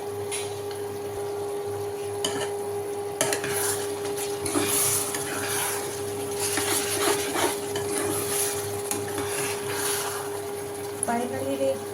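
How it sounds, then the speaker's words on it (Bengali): Ginger is grated over a jar of amla pickle in a home kitchen, giving intermittent scratchy rasping strokes with occasional utensil clinks over a faint steady hum. Each stroke is close and moderately loud. "এর মধ্যে একটু 1 চিমটে আদা কুড়ে দিচ্ছি।"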